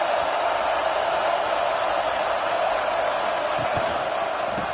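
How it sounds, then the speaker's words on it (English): Home crowd at a college football game roars in a sustained, dense wash of cheering and shouting, steady and distant-sounding throughout, with no clear voices standing out. "this home crowd is fired up and ready to make a difference today"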